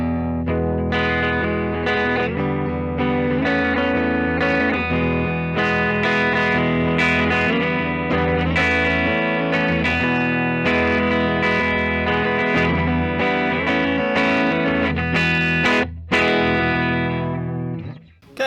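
A 2021 Gibson Collector's Edition 1958 Korina Flying V electric guitar is plugged in and played through a driven, effects-laden tone, with sustained chords and riffs ringing continuously and loud, without any voices.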